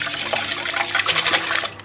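Eggs pour and splash into a bowl of cake batter for a chocolate cake, a short close wet slosh and glug lasting under two seconds with no talking.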